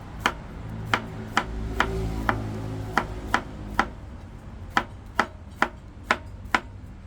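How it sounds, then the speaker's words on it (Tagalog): Sponge gourd (patola) sliced with a kitchen knife on a cutting board, giving about fifteen crisp, close, fairly regular chops with short gaps and no talk. "mag-slice na po tayo ng ating patola"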